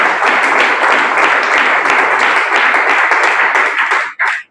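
An audience at a business meeting claps together on request: a loud, sustained burst of dense applause that holds steady, then breaks off abruptly, with one last short clap at the end.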